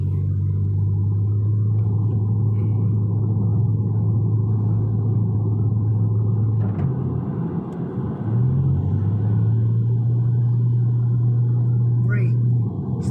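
A car on a driving lesson runs with a loud low engine drone that dips briefly midway and then resumes, while an instructor and driver talk over it.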